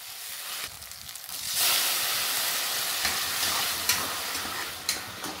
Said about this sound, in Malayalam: ജീരകം ചേർത്തതിന് ശേഷം ചെറുതായി അരിഞ്ഞു വെച്ച ഉള്ളി കൂടി ചേർത്ത് കഴിഞ്ഞാൽ പരിപാടി തീർന്നു.